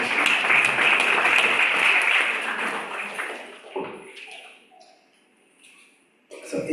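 Audience applause at a bhakti class on the Nectar of Devotion, a dense steady clapping for about three seconds that thins out and fades, followed by scattered quiet taps and a short burst of noise at the end.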